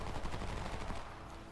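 A gunshot in the shooter video game Homefront sets off a dense, rattling burst of rapid crackling fire, loud for about a second before easing into a steady background rumble.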